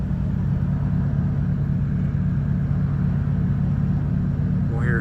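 A car idles at a traffic light, a low, steady rumble heard from a nearby vehicle with the window rolled down, even and unchanging throughout.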